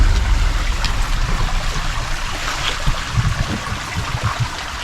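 Clear water of a mountain stream in dense forest flows steadily, a continuous broadband rush and trickle with small splashes rising near the end, close by and without talk.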